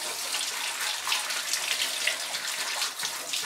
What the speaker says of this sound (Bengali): চাউমিনটা সিদ্ধ করার পর ঠান্ডা জলে এটাকে এরকম ধুয়ে নিতে হবে